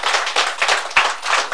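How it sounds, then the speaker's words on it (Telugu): Audience applause at a numerology graduation ceremony, a dense, steady wash of many hands clapping close by with small surges, no talk over it. "గట్టిగా చప్పట్లు కొట్టండి"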